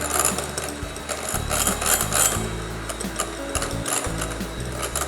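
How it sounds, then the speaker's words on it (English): Electric mixer beating salted butter in a bowl for chocolate buttercream, a steady whirring motor with rattling, ratchety beater clatter, close and continuous with no talking. "I'm going to beat this for 5 minutes until it's light and fluffy"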